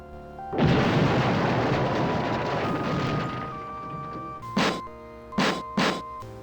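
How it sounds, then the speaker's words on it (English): A heavy explosion goes off behind a sealed bulkhead door in the computer game Space Quest 6, a loud booming roar that fades over a few seconds, followed by several short sharp bursts and a lingering ringing tone. "Just then, you hear and feel an explosion, which seems to have come from behind the door."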